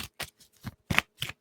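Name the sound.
shuffling cards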